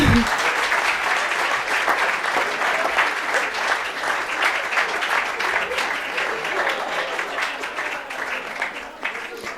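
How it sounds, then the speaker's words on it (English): An audience applauds players eliminated from a Q&A session game, a dense, steady wash of many hands clapping that sustains loudly for nearly ten seconds with no talk over it. "Please give them a big round of applause."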